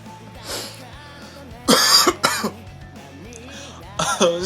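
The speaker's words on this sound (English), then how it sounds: "Excuse me for coughing" Several harsh coughs burst out in quick succession from a nearby person, with a little throat clearing and quieter speech-like sounds around them.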